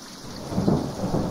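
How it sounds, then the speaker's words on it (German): Thunder rumbles low and steady with rain hissing throughout, a stormy downpour in a fantasy video game, swelling briefly in the middle with no voices present. "Hast du das gehört? Das Gewitter kommt wohl eher als gedacht."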